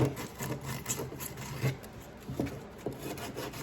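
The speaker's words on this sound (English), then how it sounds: "I take a piece of 80 grit sandpaper. I just go around these edges and smooth them up" Coarse sandpaper rasping around rough jigsaw-cut edges of a workpiece, a steady soft scratching with repeated rubbing strokes, close and fairly quiet, no talking.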